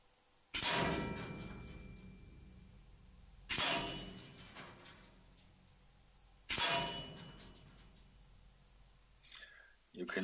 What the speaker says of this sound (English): put back this rear stock and now let's shoot